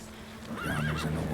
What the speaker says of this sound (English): Merchant's wagon.